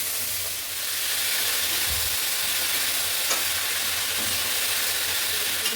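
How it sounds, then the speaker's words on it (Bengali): Tomatoes stirred into fried onions in a pan, a steady loud sizzle and hiss running throughout with a few soft scraping knocks of the stirring utensil. "ব্যাস, টমেটো একটুখানি এরকম নাড়াচাড়া করে নেব।"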